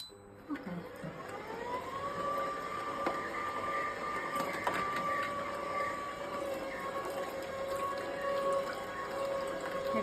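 Electric juicer squeezing oranges at home, a motor whirring up to a steady tonal whine that holds evenly for several seconds, close and constant.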